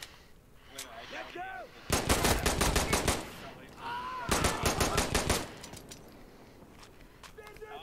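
Automatic gunfire in the video game Insurgency Sandstorm, two loud sustained bursts of rapid shots with quieter gaps between them, and a voice speaking softly underneath.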